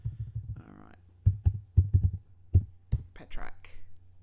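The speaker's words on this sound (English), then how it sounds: "Maybe just look at the screen before you start typing next time, mate." Quick bursts of keystrokes on a computer keyboard come in irregular clusters, close and clear, with a soft whispery voice and breathing mixed in between the clicks.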